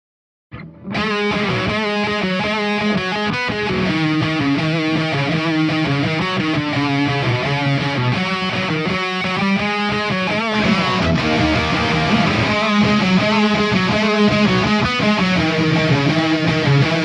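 Electric guitar through a distortion pedal, heavily distorted, plays continuously, thick and buzzing with sustained chords and riffs, loud and close with no talking, at a soundcheck.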